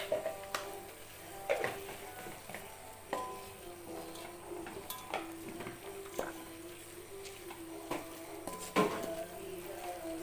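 Masala for a crab curry stirred in a pan, with a spoon repeatedly scraping and clinking against the metal at irregular intervals over a soft sizzle, close and moderately quiet, with no talk.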